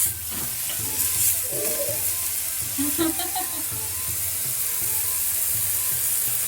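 Wagyu beef steak sizzles in a Teflon pan in its own rendered fat just after being flipped, a loud continuous close hiss with a few spatula scrapes and soft background voices.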